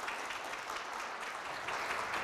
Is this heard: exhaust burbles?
no